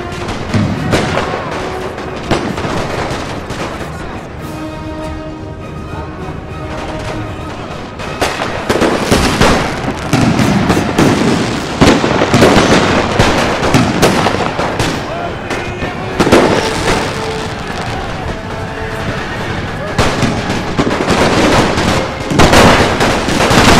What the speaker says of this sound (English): Heavy howitzer? Fire. Now.